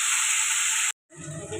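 Vegetables tipped into hot oil tempered with asafoetida, mustard seeds and dried red chillies for a chira poha, giving a loud, steady hiss that cuts off briefly, then returns as a softer crackling sizzle with stirring.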